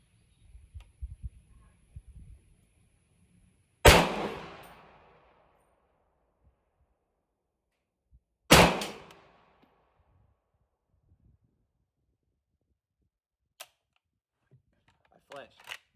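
Two loud, sharp gunshots from a .45 pistol fired with iron sights at a target, spaced about five seconds apart, each followed by a brief decaying echo, with faint handling clicks and rustles between and after.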